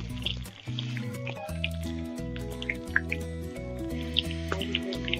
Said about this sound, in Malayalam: കുറച്ച് കറിവേപ്പിലയിൽ കുറച്ച് വെള്ളം ഉണ്ടായിരുന്നു, അതാണ് നന്നായിട്ട് പൊട്ടിത്തെറിക്കുന്നത്.